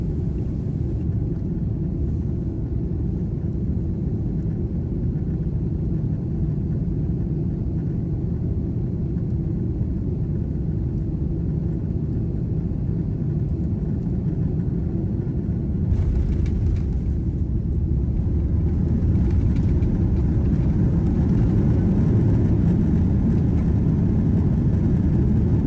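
Steady loud low rumble of a Qantas Airbus A330-300 airliner cabin during landing at Jakarta in the evening, a dense continuous engine and airflow roar that swells slightly near the end.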